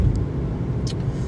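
A Ford Fiesta driving along, with a steady low engine and road rumble heard from inside the car, unbroken and fairly loud, with no talk.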